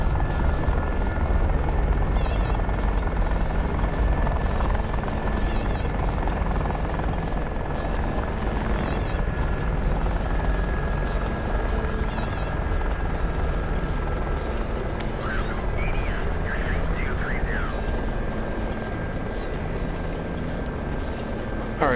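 An Apache helicopter in a flight video game thrums continuously with a steady rotor and engine drone, loud and sustained, with no talking over it.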